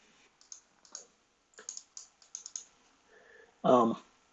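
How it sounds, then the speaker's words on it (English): Someone types and clicks on a computer keyboard, with short clusters of quiet key presses separated by pauses and ending in a brief louder sound. "I may type this into Google search"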